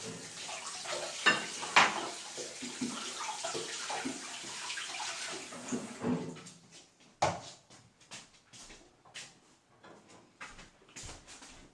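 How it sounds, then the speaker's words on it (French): Tap water runs steadily while a kitchen utensil is rinsed in a home kitchen, then splashes and clinks come in irregular bursts as the flow stops and starts. "Je vais la laver parce que je vais en avoir besoin pour la suite de la recette."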